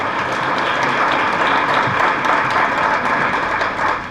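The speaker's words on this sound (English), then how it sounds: "You can applaud." Audience applause at a 2008 Louisville Metro Democrats senatorial debate, a loud, continuous roar of clapping from a packed room that holds steady from start to finish.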